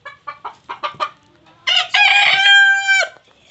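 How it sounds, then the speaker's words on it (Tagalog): A feisty farm rooster gives a run of short, sharp clucks, then a loud, close, drawn-out crow that rings out with no talking over it. "So, ito yung matapang na manok."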